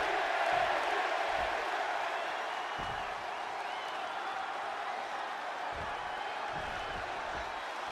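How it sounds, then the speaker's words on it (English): A large crowd in a Chicago arena cheers during a wrestling match in the WWE 2K26 video game, making a steady, dense roar that fills the space and stays at an even level throughout, with faint thumps beneath. "And just listen to this crowd here in Chicago."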